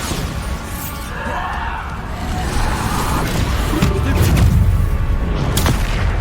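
A Bombarda explosion spell goes off in Hogwarts Legacy, a loud, sustained booming roar with crashing debris that swells and rumbles for several seconds amid a chaotic fight.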